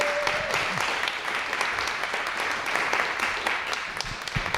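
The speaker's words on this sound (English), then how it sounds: "How about a round of applause for Mike Lee?" An audience claps for a speaker at an evening leadership talk, producing a steady, moderately loud patter of many hands with a few voices faintly mixed in, sustained across the whole stretch.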